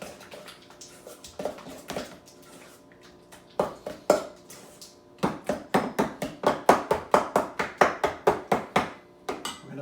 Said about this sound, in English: Mash the cream cheese so that everything gets combined.